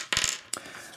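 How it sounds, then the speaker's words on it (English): Small dice for the Dragonwood card-and-dice board game are picked up from a table: two brief clattering bursts of light plastic clicks, close and crisp, separated by a short pause. "I grab 3 dice."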